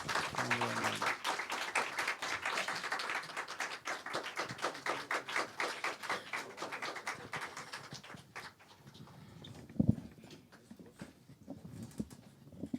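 Audience applause for student performers at a summer camp concert, a dense spread of clapping across most of the clip before it thins out, with scattered claps and a brief sharp knock near the end.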